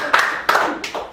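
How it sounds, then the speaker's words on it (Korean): An audience at a lecture hall claps in a few sparse, scattered bursts, thin and hesitant rather than a full round of applause. "박수 한번 좀 쳐봐요"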